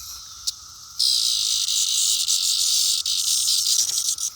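Loud, steady high-pitched insect drone of cicadas kicks in after a brief quieter start and holds continuously, with a faint constant tone underneath.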